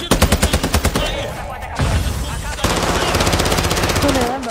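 Rapid bursts of automatic gunfire in a video game, loud and close, with short pauses between volleys and sustained firing toward the end.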